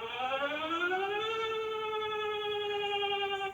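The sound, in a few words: Denmark emergency alert system siren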